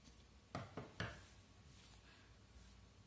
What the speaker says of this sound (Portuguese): vou tirar esses excessos com a tesoura mesmo